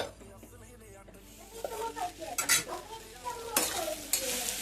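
Okra and potato fry stirred in a pan, a spoon scraping and clinking in bursts over a soft sizzle, moderately quiet and close.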